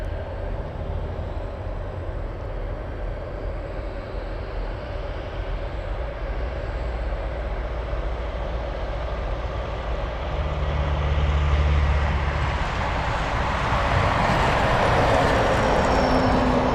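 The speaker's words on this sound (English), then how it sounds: "Look how good the C-130" A Lockheed C-130 turboprop at Anchorage airport produces a steady loud engine roar that swells and brightens toward the end as the aircraft passes closer.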